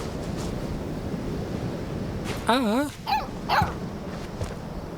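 A dog in the Life is Strange 2 video game gives a few short barks and a whining yelp over a windy outdoor ambience near the surf.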